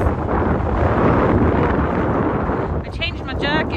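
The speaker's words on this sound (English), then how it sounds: "Very windy." Strong winter wind in snowy conditions roars steadily into the microphone, a loud, continuous buffeting rumble throughout, with a voice briefly heard near the end.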